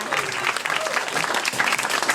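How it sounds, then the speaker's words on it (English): A stand-up comedy audience applauds, dense continuous clapping filling the room at a steady loudness with no pauses throughout. "All right, let's keep the applause going, guys."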